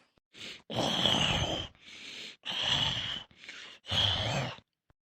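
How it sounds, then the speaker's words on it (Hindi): Loud snoring from a sleeper, four long rasping breaths in a slow regular rhythm with short silences between, close and clear with no talk. "बहुत तेज खर्राटे ले रहे हो।"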